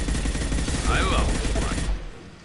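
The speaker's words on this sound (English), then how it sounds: "Firing a high-impact shot." High-impact shots fire in the video game Mass Effect 2, a dense burst of loud rapid gunfire blasts that cuts off abruptly near the end, mixed with game effects and a voice.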